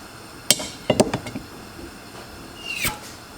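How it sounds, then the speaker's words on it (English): A sharp metallic click and a few quick clinks, then a brief hissing rush of air as the sealed lid of a home-canned beef stew jar gives way with suction. "hear that like a suctioning noise"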